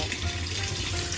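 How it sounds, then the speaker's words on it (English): Running water pours into a kitchen sink while the drain is left open, a steady close rushing and splashing hiss with no voices, from a home kitchen in Puerto Plata, Dominican Republic. "We had it on drain, so the whole time we filling the water up,"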